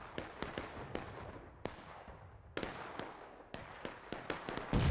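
Muskets fire at will in the Civil War game War of Rights at Bolivar Heights, with a scattered run of sharp cracks at uneven intervals, some near and some distant, echoing outdoors.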